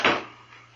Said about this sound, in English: Shut the door, Chester.